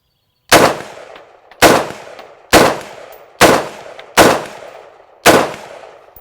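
An AR-15 style rifle fires 5.56 rounds in six loud, sharp shots, evenly paced about a second apart, each with a short decaying echo and no talking.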